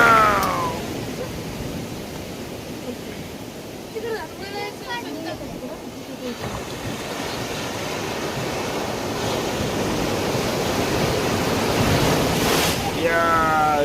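Big waves surge and crash along the Konkan coast at Diveagar, a steady loud wash of surf and wind noise that swells and recedes, with voices talking over it.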